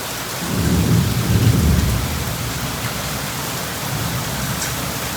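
A low rumble of thunder rolls beneath heavy, steady rain, then fades while the downpour keeps hissing.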